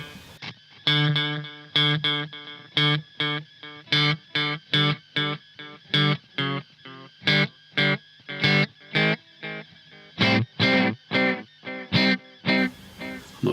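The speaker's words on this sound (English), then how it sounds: "Let's look at the echo only," A Roland Space Echo tape delay throws out a string of distinct, harmonically rich repeats in an uneven rhythm, each burst clear and strong with near silence between, no talking over them.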